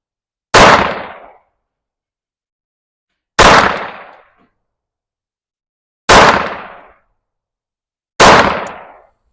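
Four loud pistol shots from a Staccato C2 fitted with a Steiner MPS sight, fired at a range, each a sharp crack with a short decaying tail, spaced irregularly about two to three seconds apart with silence between.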